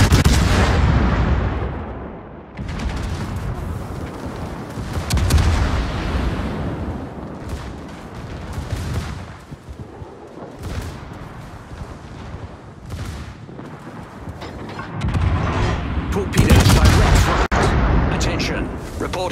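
Naval artillery salvos from warships in a high-tier clan battle video game, repeated loud booming shots with rumbling decay spread through the clip, heaviest near the start and end, under radio-style game voice callouts.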